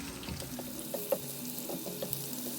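Ingredients for a seekh kebab gravy lightly sautéing in a pan, a soft steady sizzle with occasional spatula taps and clicks, fairly quiet, with faint background music and no talking.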